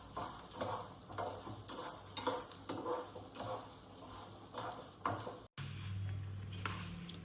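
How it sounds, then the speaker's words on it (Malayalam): Green gram roasting in a pan on the stove, stirred with a utensil: rhythmic scraping and rattling strokes of the dry grains against the pan, steady and close, with a brief cut near the end before stirring continues. "നമ്മളിത് ചെറുപയർ ഇവിടെ ഇങ്ങനെ വറുത്തുകൊണ്ടിരിക്കുന്നുണ്ട്."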